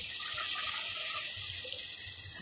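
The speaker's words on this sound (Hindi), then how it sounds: "ये भुन गया है, इसमें थोड़ा पानी शामिल करूँगी।" Water is poured into roasting moong dal for a soft khichdi, a steady close hissing pour lasting a couple of seconds with no voices.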